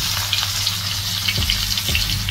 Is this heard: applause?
no